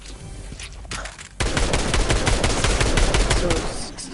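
Rapid Fortnite gunfire in a dense, continuous burst that starts abruptly after a quieter stretch with a couple of faint pops, loud and close, with the sharp cracks running together.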